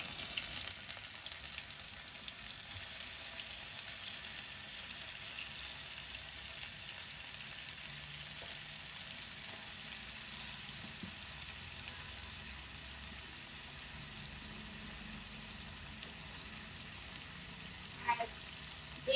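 Mustard paste frying with fish in a pan, a steady, close hiss and crackle of hot oil that continues evenly throughout, with a faint clink near the end.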